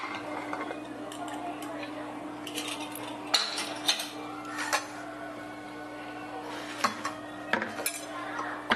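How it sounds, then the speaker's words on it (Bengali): A pressure cooker of young jackfruit has cooled after the gas is switched off, and its lid is twisted and lifted off with scattered sharp metallic clicks and clinks over a steady low hum. "আমি প্রেসার কুকারের ঢাকনাটা খুলে নিচ্ছি"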